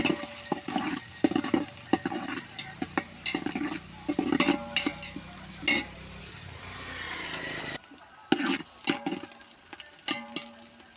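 Onions frying in oil with whole spices like cinnamon and cloves for biryani, a continuous sizzle broken by repeated stirring and scraping of a spoon against the pot.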